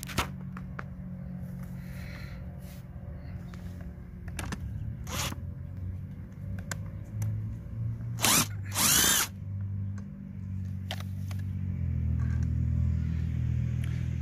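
A cordless impact driver bought cheap at auction fires in short bursts, several sharp rattling whirs separated by pauses, close and loud over a low steady background hum.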